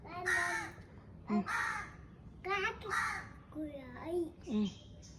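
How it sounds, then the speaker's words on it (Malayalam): Several harsh crow caws ring out in separate bursts, fairly close, with a person's voice speaking between and around them. "ദാ നോക്ക്, ദാ അവിടെ കാക്ക, അവിടെ കാക്ക."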